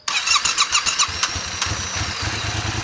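A Yamaha MT07 motorcycle engine cranks with a short starter whir, catches, and settles into a close, steady, throbbing idle.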